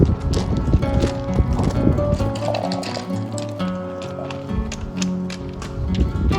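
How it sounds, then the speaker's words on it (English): Horses clop along a rocky hiking trail in Samaria Gorge, Crete, hooves striking stone in a steady, fairly loud patter that quickens as one runs ahead, with outdoor noise around them. "I love how this horse ran ahead and then stopped there, turned around to wait for his friends."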